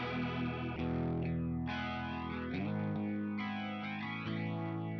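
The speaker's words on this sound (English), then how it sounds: "Let's get a version of this with a little bit of chorus on it." A distorted electric guitar tone from an amp plugin preset with chorus added sustains loud, swirling chords with a wavering, doubled shimmer, with no voices.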